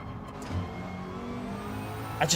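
A McLaren race car in Gran Turismo 7 holds a steady, mid-pitched engine drone with sustained harmonic tones, close and even throughout, with a brief brighter rise at the very end.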